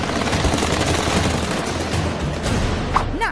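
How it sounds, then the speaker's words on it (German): Rapid, overlapping pops crackle densely and continuously, like popcorn kernels bursting in a covered pan, loud and close. "Oh, die Körner explodieren bereits."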